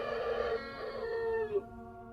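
Deep rooster-like monster crow, a single drawn-out harmonic call that wavers and falls before cutting off, loud and close with no talk.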